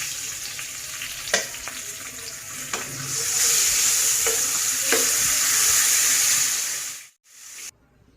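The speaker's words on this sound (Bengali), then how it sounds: "যে কড়াইতে আমি মাছ ভেজেছি সেই কড়াইতে আমি পেঁয়াজ কাঁচামরিচ দিয়ে দিচ্ছি।" Onions and green chillies hit a wok still oily from frying koi fish, bringing a close sizzle with scattered clicks of stirring that swells louder midway, then cuts off sharply near the end.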